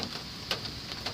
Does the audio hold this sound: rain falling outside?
yes